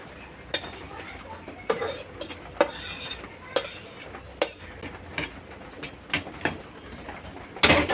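A spoon scrapes and clinks against a pot of boiling khichuri as it is stirred, a string of sharp metallic taps and scrapes at a steady, uneven rhythm over a low background bubble, close and fairly loud.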